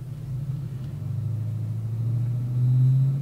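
A Gen V Chevrolet Silverado with an L86 V8, BTR 220 cam and Truck Trinity intake runs on a chassis dyno, giving a steady low engine drone that builds gradually in load and loudness, with no talk over it.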